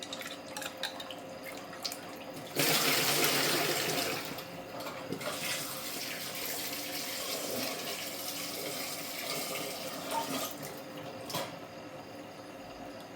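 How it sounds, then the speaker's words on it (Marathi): Potatoes are rinsed under running water: a close, steady gush with splashing that lasts several seconds before cutting off. "आता मी स्वच्छ धुवून घेते आणि याच्यामध्ये दुसरं पाणी टाकून शिजवायला टाकते"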